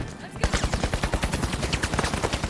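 Automatic gunfire in the shooter game The Finals rattles off in a rapid, even stream of loud close shots after a brief quiet moment.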